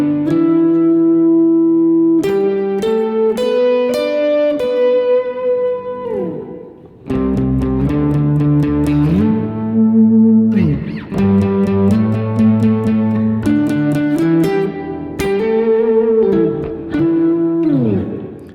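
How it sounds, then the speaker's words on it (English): Electric guitar played through an octave pedal, with the upper octave fully up and a little sub octave blended underneath for body, plays a loud, sustained lead line of bent and held notes with a thick, doubled tone and no talking. "It's an octave pedal, and it's mainly primarily used to sort of boost whatever lead I might have"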